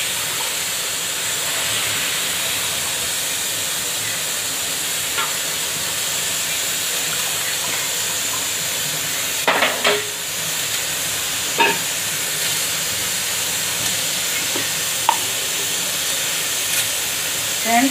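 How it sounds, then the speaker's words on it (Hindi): Steady loud sizzling hiss of hot asafoetida tempering poured into pani puri water, with a few faint clinks and taps scattered over it. "अब मैं इसमें पानी पूरी में तड़का दूंगी।"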